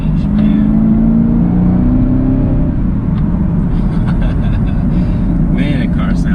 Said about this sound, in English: Man, that car sounds good. And this is stock, the stock exhaust.